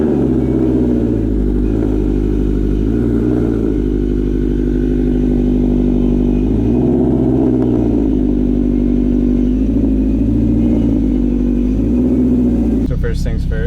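An 800whp Subaru on a test drive gives off a loud, continuous engine drone that shifts pitch as it moves, rough and close, ending in a burst of clatter.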